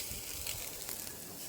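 A rib eye steak sizzling over hot coals just after flipping, a faint, steady crackling hiss without any voices.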